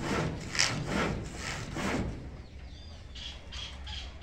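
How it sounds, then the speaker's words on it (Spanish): Handsaw cutting a roofing sheet, a steady series of rasping back-and-forth strokes close by, fading into lighter scraping toward the end, with no talking. "Donde estás cortando, donde está el serrucho"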